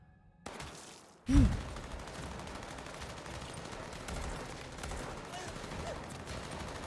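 Gunfire from a Squid Game Season 2 episode: one sharp, heavy boom stands out, followed by a dense rumbling battle din with faint voices beneath.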